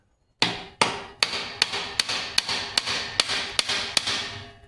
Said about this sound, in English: The hammers are good for something, huh?